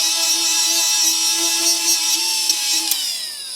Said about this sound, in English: So we're going to grind that off real quick.